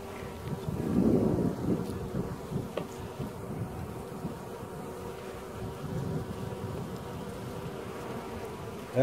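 Wind blowing outdoors at an open beehive on a warm day, a steady low rushing roar buffeting the microphone, with a droning hum of bees mixed in throughout, close and continuous.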